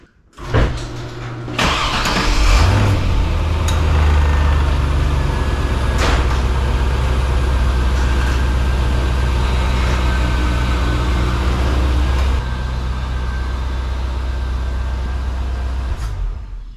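A Corvette C5 Z06 starts up and backs out of a garage, its engine settling into a loud, deep, steady idle rumble that holds for most of the run, dropping slightly in level near the end.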